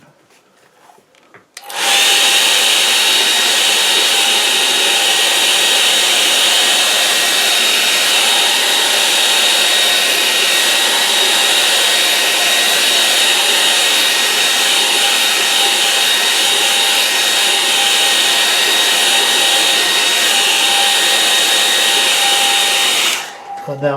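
A hair dryer switches on and runs loudly and steadily for about twenty seconds, drying a wet watercolour painting on paper, a constant close whooshing whine that cuts off abruptly at the end.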